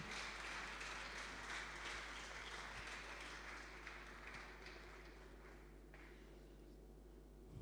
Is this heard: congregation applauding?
yes